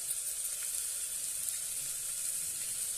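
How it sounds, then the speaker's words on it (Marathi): Spices, coriander powder and green chillies sauté in oil for moong pulao, producing an even, continuous hiss of sizzling at moderate volume with no speech. "छानपैकी आपण हे परतून घेऊया"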